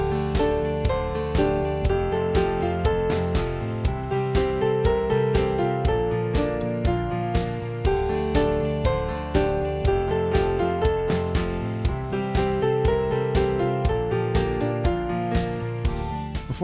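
An intermediate-level piano arrangement of the chorus of a song plays alone, with a steady driving rhythm of repeated chords and bass notes, loud and close throughout.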